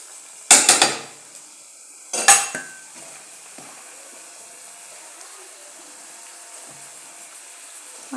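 A spoon stirs dondakaya (ivy gourd) curry in hot oil in a pan, giving two sharp metallic clanks close together, then a soft, quiet background with faint scraping.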